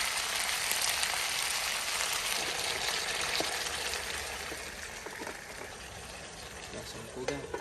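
Food fries in a pan after soy sauce goes in, a steady close sizzle and hiss that eases slightly over time, with light scraping and ticks of stirring near the end, at a roadside cooking camp on a Tibet cycling trip.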